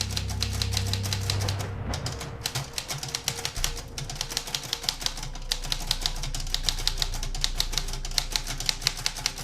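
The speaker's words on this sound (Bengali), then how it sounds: "খটখট করে গোটা কয়েক টাইপিং শব্দ" Old mechanical typewriter keys clacking in a rapid, uneven stream of sharp taps with occasional heavier strikes, steady and close throughout with no voices.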